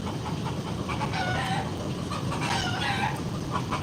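Roosters and chickens in a city center cluck and crow repeatedly over a constant background hum of traffic and street noise.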